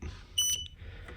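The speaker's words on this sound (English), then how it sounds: "Then you should hear a beep emit." A JVR Vac100 chamber vacuum sealer's digital gauge gives a single short, high electronic beep when its settings button is held, clear and close against quiet background noise.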